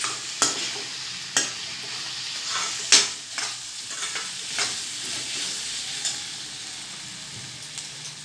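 Flat beans, eggplant and potato with spices are stirred in a sizzling pan, and a spoon scrapes and knocks against it every second or so over steady frying hiss, close up with no talking.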